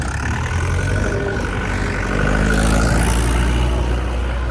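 Around twenty to twenty-five diesel tractors run together at a flood-relief gathering, making a continuous low engine rumble that swells slightly partway through, with no voices.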